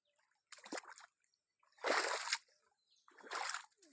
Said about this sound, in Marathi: पाणी द्यायला चालू आहे